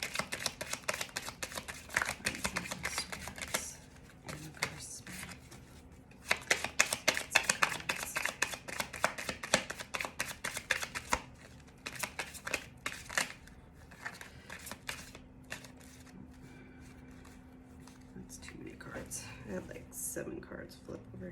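Tarot cards are shuffled and flipped in soft, quick clustered flicks and snaps, close and quiet, with a steady low hum underneath and a person talking at times.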